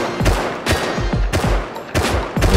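Rapid gunfire in the video game Rust, several loud close shots in uneven bursts with sharp attacks and rumbling tails, no talking.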